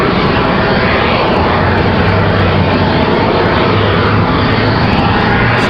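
A Southwest Boeing 737-800 jet departs from Raleigh Durham International Airport on a windy day, its engines producing a loud, steady, broad roar that holds throughout without any talk.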